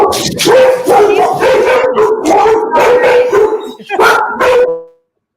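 A rescue dog barks and howls loudly and continuously at close range in a rapid, repeated series of yowling barks before stopping abruptly.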